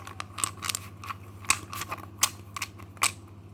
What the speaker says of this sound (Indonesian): Oke, kita kocok kartunya.